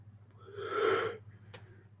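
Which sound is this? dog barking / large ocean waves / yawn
yawn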